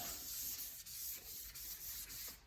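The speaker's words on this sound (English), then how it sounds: "From here, just keep switching your papers, and now you can sand all over now that you've got the runs out." Car paint being wet-sanded by hand with wet or dry sandpaper after runs are removed, a soft, continuous back-and-forth rubbing with brief pauses between strokes, close and alone.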